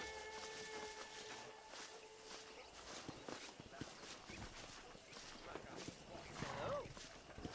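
Horses' hooves clip-clop in the Western video game Red Dead Redemption, an irregular run of soft thuds mixed with other game noise and voices, fairly quiet throughout.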